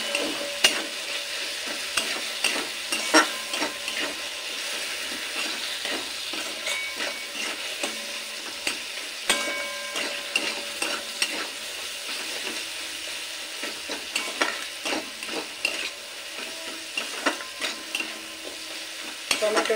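Cumin, coriander powder and tomato stir-fried together in a pan for mixed vegetable dal; a continuous sizzle with frequent clattering stirs of a spoon against the pan, steady and close throughout, with no talking.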